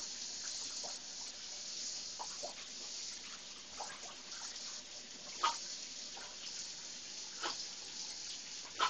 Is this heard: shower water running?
yes